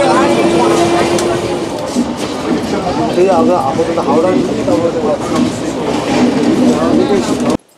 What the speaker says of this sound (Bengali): আমাদের ট্রেন শালিমার পুরী ধৌলি এক্সপ্রেস ঢুকছে বালাসোর স্টেশনের 3 নম্বর প্ল্যাটফর্মে